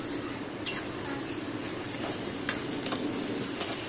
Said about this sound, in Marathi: तर आता आपण जे टमाटे कापून घेतले होते तेही त्याच्यामध्ये टाकून घेऊया।